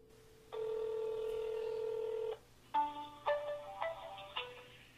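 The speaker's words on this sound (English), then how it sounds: "Now I'm going to make a phone call here just to show you that I am running right now on AT&T" Telephone keypad tones on an AT&T phone with the speaker on: a long steady tone, then a quick series of separate dialing beeps of different pitches, clear and close with no talk.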